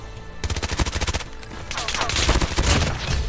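Rapid close-range gunfire in the mobile shooter Call of Duty Mobile: a fast automatic burst of evenly spaced shots, then a denser, rougher stretch of overlapping fire, loud and up front.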